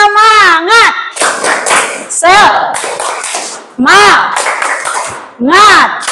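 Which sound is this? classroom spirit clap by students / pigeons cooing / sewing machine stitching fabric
classroom spirit clap by students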